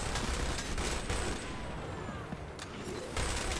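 A heavy machine gun fires in the shooter Dirty Bomb, rapid dense bursts with sharp broadband cracks that hold for a moment, ease off, then pick up again near the end, fairly loud and without talk.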